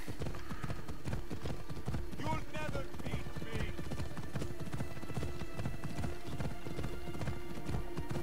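Horse hooves clip-clopping in a steady galloping rhythm while riding in Assassin's Creed Odyssey, continuous and fairly close, with a brief whinny over the game's background sound.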